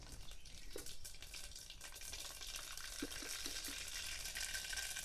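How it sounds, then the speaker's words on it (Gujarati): Mustard seeds and cumin hit hot oil in a pan for tempering a black-eyed pea and potato curry, giving a steady close sizzle with a few light pops toward the end. "પાટિયામાં તેલય ગરમ થઈ ગયું છે, તો હવે આપણે એનો વઘાર કરી નાખવી"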